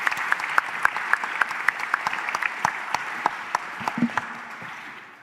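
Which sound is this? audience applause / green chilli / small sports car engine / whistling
audience applause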